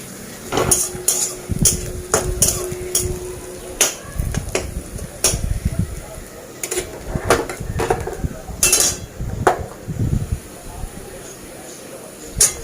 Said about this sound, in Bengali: এখন কড়াইতে একটুখানি আলুটা টালবো